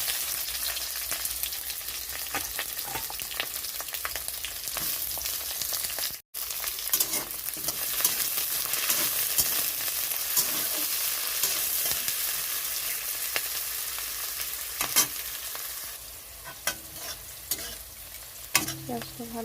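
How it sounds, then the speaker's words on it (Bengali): Onions frying with bay leaf and garlic, a steady close sizzle with scraping spatula strokes stirring the pan throughout, one brief dropout partway. "পেঁয়াজটা ভালো করে ভাজা হয়ে গেছে।"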